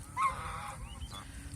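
Geese honk close by on a duck and goose farm near a wetland in Sunamganj, Bangladesh, a short burst of honking calls over faint background noise.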